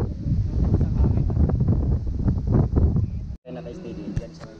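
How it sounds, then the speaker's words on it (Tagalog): Strong mountain wind roars and buffets the microphone on Mt. Matulid in the Sierra Madre range, with voices talking over the constant, loud gusting and a brief drop in the noise near the end. "Grabe, lakas ang hangin, ewan ko, naririnig. Lakas ang hangin."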